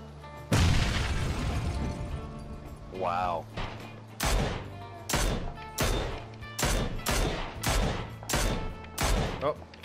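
Gunshots in the battle royale game PUBG: a rapid series of sharp, loud reports in steady bursts, one after another, with a brief voice-like sweep partway through and voices heard between shots.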